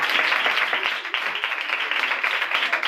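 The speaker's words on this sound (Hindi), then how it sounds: "खुदा के जलाल के लिए जोरदार तालियां बजाएं।" Dense, steady applause from a church congregation, many hands clapping together in a continuous loud wash with no pauses and no voices.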